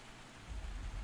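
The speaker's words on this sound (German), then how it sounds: "Es ist so schön, wenn es hier regnet." Rain falling in Disney Dreamlight Valley, a soft continuous patter that swells slightly louder and deeper partway through, heard alone without voices.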